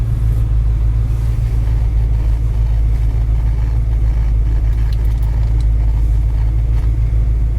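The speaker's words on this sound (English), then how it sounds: "Car's been running for a while." A 1973 Mercury Cougar XR7 engine running at a steady idle, a loud low rumble with constant throb and no revving, close up and without talk.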